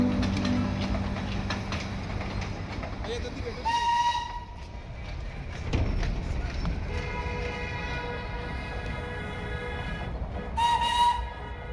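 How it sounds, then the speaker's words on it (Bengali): Darjeeling toy train at Batasia Loop sounding its whistle: two short, shrill blasts a few seconds apart, rising above a steady outdoor background of wind and distant activity. "টয় ট্রেন হর্ন বাজিয়ে যাচ্ছে"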